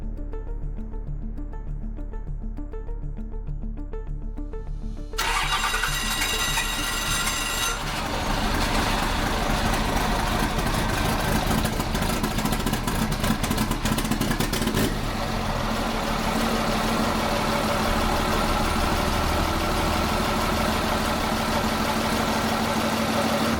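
A 1200-horsepower pickup truck engine fires up after a quiet stretch, then settles into a loud, steady, rumbling idle close by with no talking.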